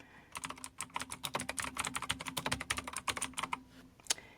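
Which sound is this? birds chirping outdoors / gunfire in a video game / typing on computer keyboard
typing on computer keyboard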